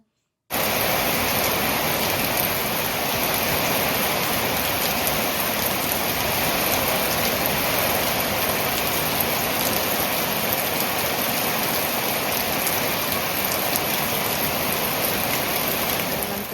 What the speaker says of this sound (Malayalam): അത് കഴിഞ്ഞപ്പോൾ നല്ല മഴയായിരുന്നു കേട്ടോ